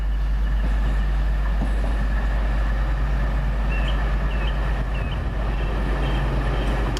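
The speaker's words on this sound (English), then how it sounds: "here's our train coming" A train rumbles steadily into a station, with a deep continuous engine drone and faint squeals from the rails.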